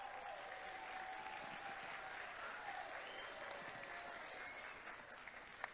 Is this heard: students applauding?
yes